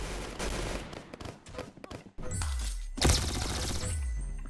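Gunfire from the Roblox Arsenal shooter game, with several bursts of loud, close shots and sharp impacts. A short pause comes near the middle, then heavier firing resumes.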